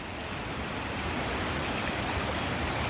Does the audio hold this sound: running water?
yes